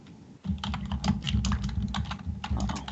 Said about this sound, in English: He's typing a book.